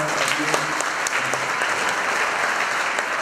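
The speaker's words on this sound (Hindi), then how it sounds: "वैभव के लिए प्लीज ताली बजाएं" Students and guests at a school film festival event applaud a boy, a loud, continuous wash of clapping from a nearby crowd with voices mixed in.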